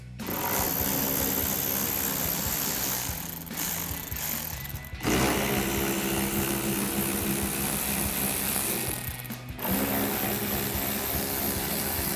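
On a RAM 2500, 8mm bolts are removed with a socket on a powered tool, which runs as a loud, steady mechanical drone in long bursts with two brief pauses, close by, with no talking.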